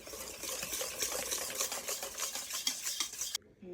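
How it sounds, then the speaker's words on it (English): Whisk stirring unsweetened cocoa into brownie batter in a bowl, a steady close scraping and rhythmic swishing with fine ticking clicks, continuous for a few seconds before stopping abruptly. "add 2 tablespoons of unsweetened cocoa butter into the brownie batter and whisk it into it until combined"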